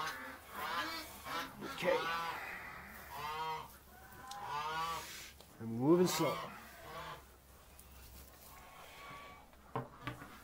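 Geese honking inside a goose shed, several loud harsh honks in irregular bursts close by, mixed with quieter shuffling and occasional low speech from a person crawling among them.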